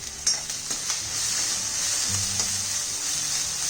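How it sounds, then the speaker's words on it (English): Egg lollipop pieces sauteed over a high flame in a hot pan, a steady loud sizzle with bright hissing and a few scraping stirs, close and continuous without talk. "We need to literally saute this on high flame"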